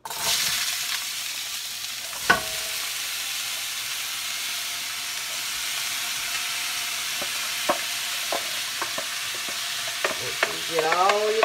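Chopped vegetables for cabbage soup frying in oil, a low continuous sizzle with scattered sharp clicks and scrapes of a utensil stirring them through the pan, getting busier toward the end.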